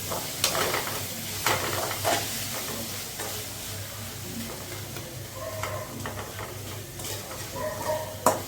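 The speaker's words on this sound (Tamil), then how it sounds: "அதனால் நல்லா போட்டு வதக்கணும்" Ginger garlic paste sizzles with tomato and onion in a pan, steady frying hiss broken by repeated scraping stirs and light clinks of the spatula, close and with no talking.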